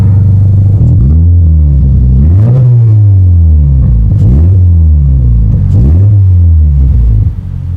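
A Subaru BRZ fitted with a cheap 2.5 inch exhaust revs hard, with four repeated rising-and-falling engine sweeps, loud and close with a low grumble throughout.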